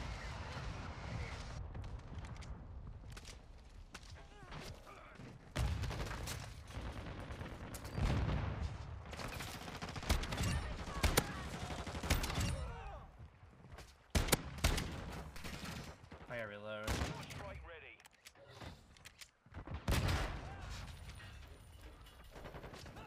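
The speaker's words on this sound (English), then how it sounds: "I'm using a shotgun" Gunfire from a shotgun in the Modern Warfare 2 video game, an Expedite 12 class, sounding as repeated loud blasts and bursts of gunplay over a dense, busy battle mix throughout.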